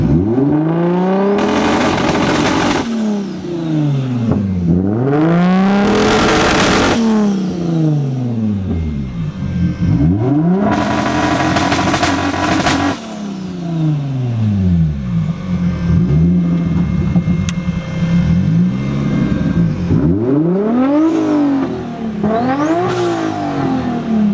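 A car engine with 2-step launch control revs hard and close, climbing to the limiter and holding there in bursts, then dropping back between several repeated pulls.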